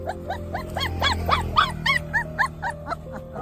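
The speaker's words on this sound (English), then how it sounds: "The dog was likely injured, as it was crying when the people tried to move the pipe" A small dog stuck between two pipes cries in a rapid series of high, whining yelps, repeated about a dozen times at close range over a low background hum.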